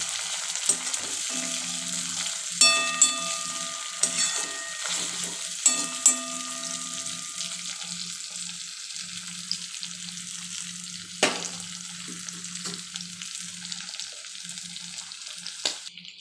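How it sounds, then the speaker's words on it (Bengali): Fish oil poured over onions already frying in a pan, for a fish-head and vegetable chorchori, a soft continuous sizzle with occasional spoon clinks and a sharp knock, close by, no voices. "পেঁয়াজের মধ্যে দিয়ে দিলাম মাছের তেলটা ভাজা হলে মশলাটা দেবো"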